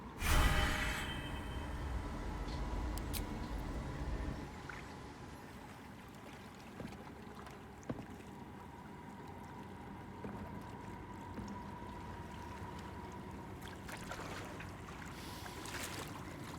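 Water sloshes and splashes in Baldur's Gate 3 as a character wades in, with a loud rush at first that settles into a steady low wash and soft trickling. Faint ambient tones sit underneath.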